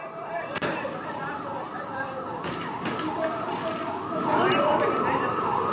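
A fire engine siren at a fire in a closed factory in Howrah wails in rising and falling sweeps, loud and fairly close, growing slightly stronger toward the end over a background of street noise.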